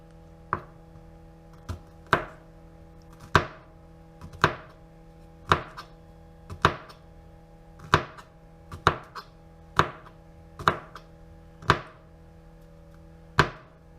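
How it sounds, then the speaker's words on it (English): A knife cutting celery stalks and carrots on a board for crock pot chicken noodle soup, heard as sharp, evenly spaced chops, about one per second, close up and alone. "you'll just continue to cut both celery stalks and the rest of your carrots."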